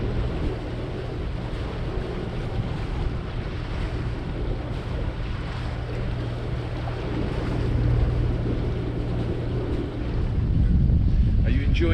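A sailboat motoring under engine through wind and rain, with a steady low engine drone and hum beneath continuous wind buffeting and sloshing water, growing louder and rougher toward the end.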